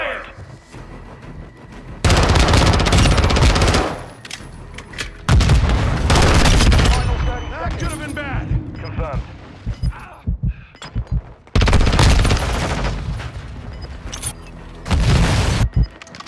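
Gunfire in Call of Duty, loud, heavy bursts of rapid automatic shooting broken by short pauses, with booming impacts, and voices calling out in the middle of the battle.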